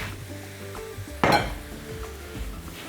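Mushrooms browning in a pan, a soft continuous sizzle broken by one sharp clink of a utensil against the pan partway through, with lighter scraping stirs afterward.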